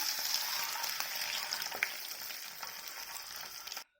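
Fish fries in oil with a sprinkle of turmeric, a soft continuous crackling sizzle that stops abruptly at the end.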